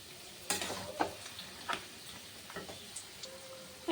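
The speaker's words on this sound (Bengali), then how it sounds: "একটু নাড়াচাড়া করে নামিয়ে দেবো" Bottle gourd curry is stirred in a pan, with a soft sizzle and several distinct scrapes and taps of the spoon against the pan at close range.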